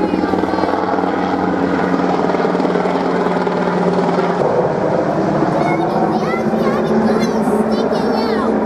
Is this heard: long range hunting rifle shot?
no